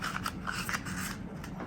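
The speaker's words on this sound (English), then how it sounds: "And be careful to use scissors too" Scissors snip through a cardboard toilet paper roll in a quick series of short, crisp cuts, close and clear, with a faint rasp between snips and no talking.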